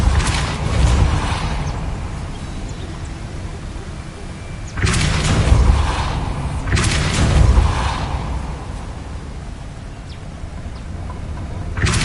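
Depulso spell blasts in Hogwarts Legacy, two loud booming whooshes a couple of seconds apart over a low game ambience.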